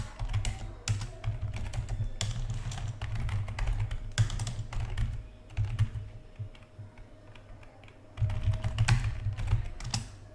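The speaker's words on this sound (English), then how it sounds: "I'm just going to type something commands here" Typing commands on a computer keyboard, with steady bursts of clicking keystrokes over a constant low hum, and one loud flurry of keys near the end.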